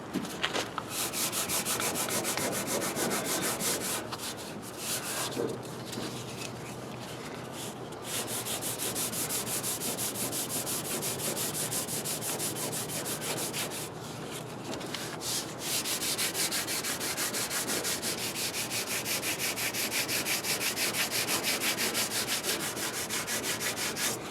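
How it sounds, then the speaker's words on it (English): Hand sanding with 220 grit sandpaper on the bodywork of a 2010 Ford F-150 makes a loud, continuous rasping scrub of rapid back-and-forth strokes, close up, with a few brief pauses and no talking. "we're going to go back to 220 sandpaper, and we're going to deal with it"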